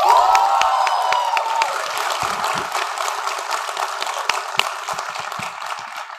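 An audience in a front-row interview setting applauds filmmaker Sanjay Leela Bhansali: a steady, dense wash of clapping and light cheering from a crowd, sustained at even loudness throughout with a brief tonal sound near the start.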